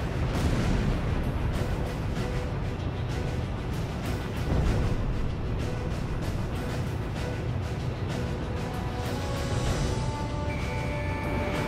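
A missile strike destroying a target in the combat flight game Ace Combat 6, heard as a dense, continuous rumble of booms and blasts with layered explosive bursts and steady roaring noise throughout.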